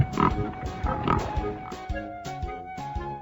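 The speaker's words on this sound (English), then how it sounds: "Pig." A pig grunts and oinks several times in short, close bursts, set over a soft musical backing.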